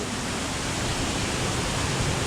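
Steady, dense rain falls in a Philippine jungle, a continuous broadband hiss and patter that stays even and close for the whole stretch, with no voices.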